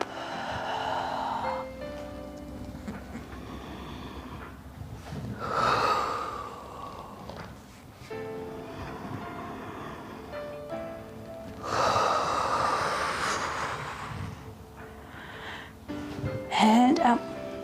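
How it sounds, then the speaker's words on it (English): Loud, deep exhalations during a fit ball workout class come in long, rushing breaths repeated several times, with an instructor's voice talking between and over them. "Deep breath out. Deep breath out."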